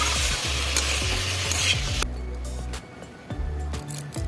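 Pointed gourd pieces with salt and turmeric sizzle in a pan while being stirred, a steady loud frying hiss with scraping stirs that drops somewhat after the first two seconds.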